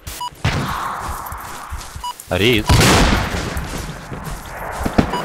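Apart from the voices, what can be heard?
RPG strike hitting the base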